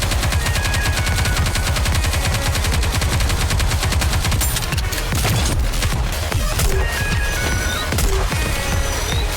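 Sustained, loud automatic gunfire in the anime shooter Goddess of Victory: NIKKE, rapid bursts hammering continuously for several seconds with scattered heavier impacts layered in.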